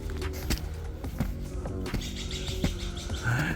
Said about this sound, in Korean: 위험을 알리려고 그러나 엄청 우네요 새들이